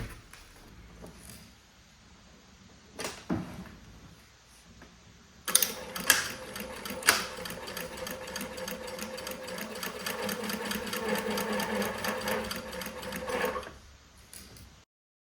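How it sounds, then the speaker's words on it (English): A sewing machine stitching a straight 8 mm seam on a long open-back dress, starting after a few handling clicks and running with a fast, even mechanical chatter for several seconds before stopping. "But first we sew here with 8 millimeters normal stitch"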